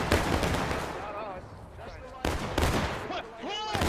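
Musket volleys crack out repeatedly in an American Revolution video game, sharp loud bursts separated by short gaps, with voices calling out between the shots.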